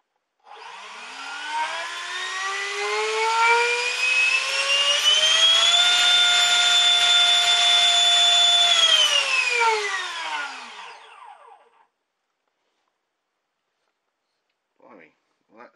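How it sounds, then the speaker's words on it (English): Hobbyking electric ducted fan with a 55mm exit tube on a homemade thrust rig, spinning up to a loud rising whine, holding steady, then winding down to silence, with faint voices after. "It's just my bodged up EDF rig on the thrust rig."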